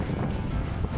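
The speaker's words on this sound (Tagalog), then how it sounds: "Ang hangin kasi" Steady wind on a road trip in Moose Jaw, Saskatchewan, rumbles and buffets the microphone in a low, continuous roar.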